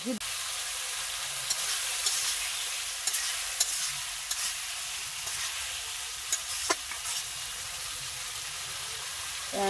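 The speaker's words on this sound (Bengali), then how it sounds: "বন্ধুরা বালাটিকে মশলাটা কষাই নিতেছি" Spice masala and potato frying in a pan make a steady sizzle, with intermittent scrapes and taps from stirring, close by and fairly even throughout.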